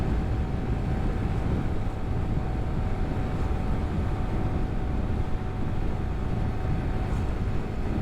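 A Honda Grom motorcycle held at full throttle around 59 mph, giving a steady, dense engine drone blended with heavy wind rush that stays constant and loud throughout with no talking.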